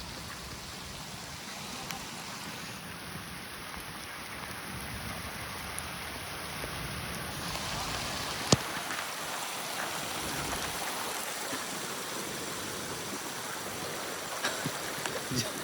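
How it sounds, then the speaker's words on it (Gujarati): Steady, dense downpour in Vithodar village pours down with a constant hiss, with a single sharp knock partway through. "વરસાદ ચાલુ થઈ ગયો એટલા માટે અમે ઊભા છીએ"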